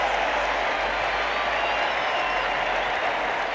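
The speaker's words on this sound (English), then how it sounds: "the Red Sox take the field to the roar of this great crowd" Steady, dense roar of a large baseball crowd at a 1967 Twins–Red Sox game in Boston as the home team takes the field, a continuous broadband wash with no individual voices standing out.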